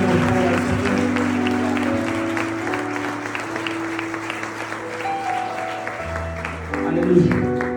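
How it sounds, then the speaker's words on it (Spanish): A church congregation applauds during a Spanish-language sermon, the clapping running under sustained organ or keyboard chords and a voice, fairly loud and continuous, swelling near the end. "Un aplauso al Señor, por favor."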